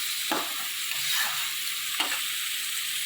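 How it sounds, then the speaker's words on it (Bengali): Chopped onion and green chilies fry in hot oil after peanuts, a continuous bright sizzle broken by a few scraping stirs of a spatula in the pan. "বাদামটা ভাজা হয়ে গেলে পেঁয়াজটা, কাঁচা লঙ্কাটা দিয়ে লাল করে ভাজতে হবে।"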